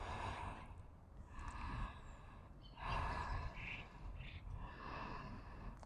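Slow, deep breaths during a freestyle yoga flow, audible inhales and exhales with soft sighing edges, close and fairly quiet, no talking.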